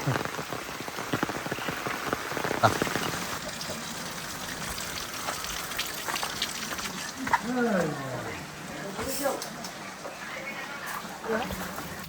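Steady rain patters on a surface throughout during riverside fishing in Konkan, with people talking intermittently over the hiss.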